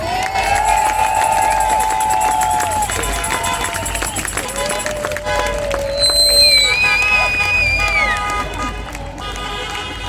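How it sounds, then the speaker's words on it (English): A crowd cheers and whoops with scattered clapping, sharp whistles cutting through the loud, sustained noise. "Do they deserve a round of applause?"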